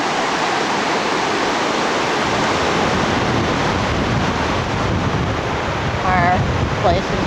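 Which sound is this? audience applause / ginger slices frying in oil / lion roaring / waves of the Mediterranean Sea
waves of the Mediterranean Sea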